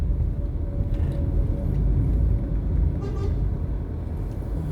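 A garbage truck rolls along the road just ahead of a car driving through Kingston, Jamaica, giving a steady, fairly loud low engine rumble mixed with traffic noise and a brief horn-like tone.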